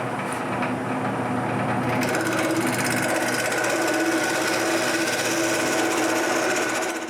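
A wood lathe spins while a wooden knob is turned for a tripod project, giving a loud, steady whirring and scraping drone that holds evenly from start to finish, close by with no talking.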